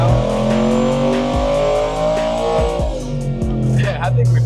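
A turbocharged daily-driver Ford F150 on nitrous revs hard under load, a loud, rising engine roar with sharp shifts in pitch, and people talk over it.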